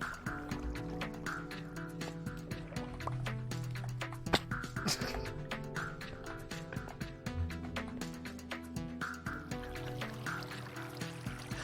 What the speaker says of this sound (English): I hate the Minecraft water physics.